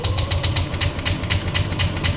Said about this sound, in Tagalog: Tingnan nyo mga sir, mag-redundo yung motor natin.